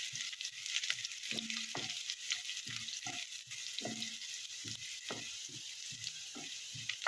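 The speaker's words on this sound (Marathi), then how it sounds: "कांदा तांबूस रंगाचा होईपर्यंत भाजायचे।" Chopped onion frying in a pan until browned, a continuous bright sizzle with soft bubbling pops and occasional stirring scrapes, close and quiet, with no talking.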